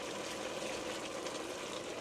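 Water being poured into a cooking pot while making Dominican sancocho, a steady continuous rush of liquid lasting throughout, fairly close and even in level, with no talking.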